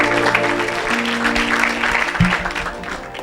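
A congregation applauds during a deliverance service at a church, a loud, sustained burst of clapping mixed with crowd noise and a low musical drone.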